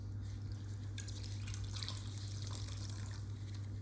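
Faint, scattered drips fall from a cloth soaked in 60-degree water during a paper-lining job, over a steady low background hum.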